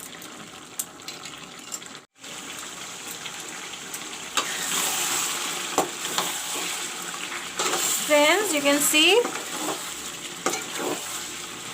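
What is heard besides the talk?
chicken curry with potatoes and onions frying in a pan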